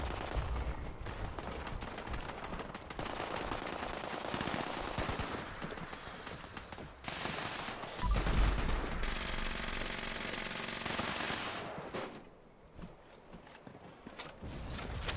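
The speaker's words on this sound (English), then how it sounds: "I don't know what everybody's shooting at" Repeated rapid gunfire from the online game Fallout 76 in a parking lot, dense bursts of shots and mechanical clatter running almost continuously, then thinning out near the end.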